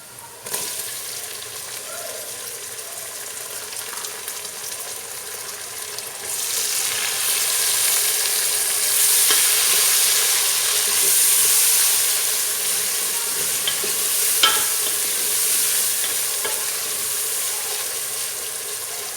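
Tomatoes fry with ginger garlic paste in a pan for a goat trotters dish, giving a loud, continuous hiss and sizzle that swells partway through and holds steady, with occasional faint stirring clicks and no speech.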